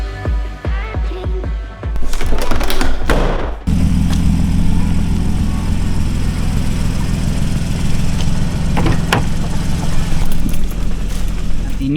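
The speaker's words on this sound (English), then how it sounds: "The new K&N filters definitely give more induction noise" A 2014 Porsche 981 Cayman S fitted with K&N air filters starts after some clanking and then idles with a deep, steady induction rumble close by, with brief voices in the first seconds.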